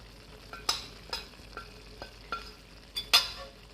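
A spoon stirs kadai paneer masala with its spice and condiment mix in a hot pan, giving about seven spaced scraping strokes over a soft background sizzle.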